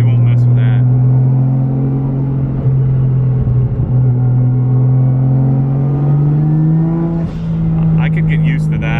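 A 1JZ-engined Nissan 240SX drones steadily as it accelerates inside the cabin, then a brief blow-off valve hiss bursts out near the end as the engine lets off, with a voice in the car.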